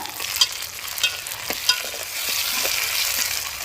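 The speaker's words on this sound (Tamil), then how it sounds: "இன்னும் வெங்காயம் தக்காளி வெள்ளைப்பூடு பச்சை மிளகாய் இன்னும் கொஞ்சம் நேரம் எண்ணெயில் வதங்கி வரட்டும்" Onion, garlic, green chili and tomato sautéing in hot oil for a dried anchovy curry, a continuous close sizzle with light stirring scrapes and small pops throughout.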